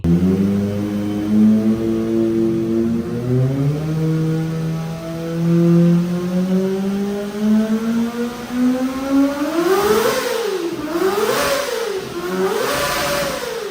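A Kawasaki ZX-25R motorcycle engine whines steadily at high revs, pitch sliding upward, then blips up and down in rapid throttle bursts near the end, loud and close.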